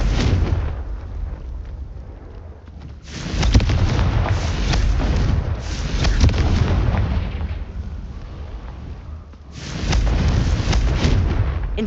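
Repeated Confringo blast spells explode in Hogwarts Legacy combat, loud booming bursts in sustained waves with a brief lull between volleys, no talk.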